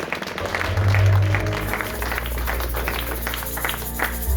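A church congregation applauds and cheers for Jesus, a crowd's rhythmic clapping over a loud low bass hum from the sound system, with scattered shouts.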